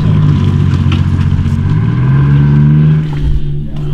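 Rolls-Royce K60 engine of an FV432 armoured vehicle, about 18 tonnes, running with a loud, steady low rumble and a slight rise in pitch partway through.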